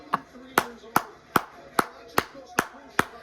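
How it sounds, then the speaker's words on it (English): Crowd at an AEW Dynamite wrestling event clapping in a slow, steady unison rhythm, eight sharp, evenly spaced claps over a quiet background. "They're all clapping."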